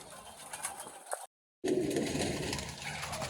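Pigeons at a bird market shop in Malerkotla, Punjab, coo softly among the caged birds, with a short gap of silence in the middle before the low cooing and shop ambience return.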